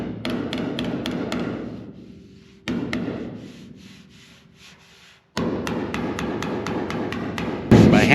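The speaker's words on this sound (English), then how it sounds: "By hammering in here, again, that raises up the center." Metal hammer blows ring on the drip rail of a 1955 Chevrolet Nomad body under primer prep. Sharp, close strikes fall in quick bursts with pauses between groups, each leaving a short metallic ring.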